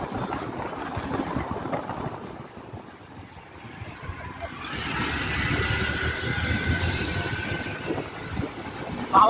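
A motor vehicle's engine runs with a steady rumble, then revs up and roars louder midway, holding a rough, sustained drone.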